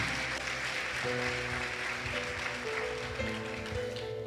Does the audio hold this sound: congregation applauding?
yes